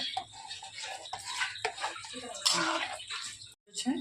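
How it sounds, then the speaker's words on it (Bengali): Hot water poured into pav bhaji in a cooking pot and stirred through, a close, busy splashing and scraping that runs steadily before a brief pause and a final stir. "গরম জল দিয়ে ভালো মতো মিশিয়ে নেব"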